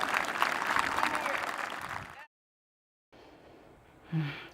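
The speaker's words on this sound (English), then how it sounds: "Give a round of applause to Mason." Fans cheer and clap for a football player at a gathering, a loud, dense burst of applause that cuts off abruptly, followed by a silent gap, then a faint murmur and a brief breath-like sound.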